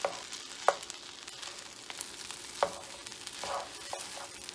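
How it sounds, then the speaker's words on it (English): Meat mixture being slowly stirred into fried rice in a pan, a soft continuous sizzle with a few distinct scrapes and taps of the utensil spaced out across the clip, fairly quiet and without talk. "So we'll go ahead and slowly stir that in."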